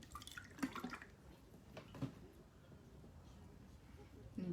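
Water from a drinking bottle drips and splashes onto a makeup blender sponge in a few soft, quiet drops, while someone talks throughout.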